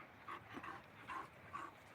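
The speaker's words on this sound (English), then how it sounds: "Dogs." Dog whimpering with short yips, four soft whiny bursts in a quick uneven rhythm, close but quiet, with no talking.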